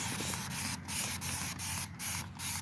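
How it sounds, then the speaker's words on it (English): Dawn Power Wash spray hisses onto a dirty marbled pot in a steady, close, loud stream, broken by several short gaps as the trigger is released and pressed again. "I used the Dawn Power Wash spray and the pressure washer."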